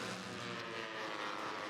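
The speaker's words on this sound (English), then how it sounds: "You can hear the engines rising up." Racing car engines rise in pitch together during a circuit race with several laps to go, a dense, steady roar that fills the short moment without any talk.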